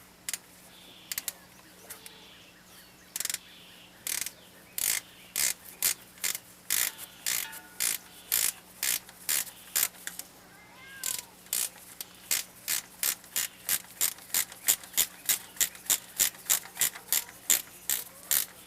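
A hand ratchet clicks in quick bursts while bolts are threaded into the thermostat housing of a Ford F-150, close and crisp, with the clicking runs growing faster and more regular toward the end.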